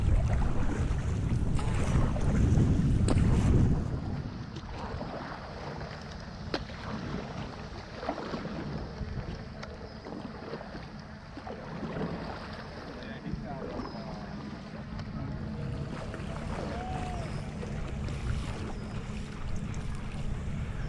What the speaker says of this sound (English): And now I can get a nice long paddle stroke.